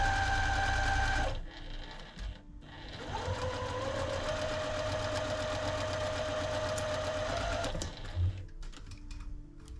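Sewing machine stitching through quilt fabric, a rapid rhythmic mechanical whir that starts, pauses briefly, then runs steadily for several seconds before stopping, close and fairly quiet.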